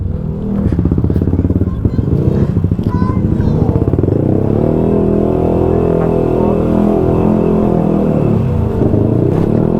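A Yamaha NMAX V1 210cc scooter engine roars loudly and steadily close by as it rides along a Cordillera mountain route, with some clattering.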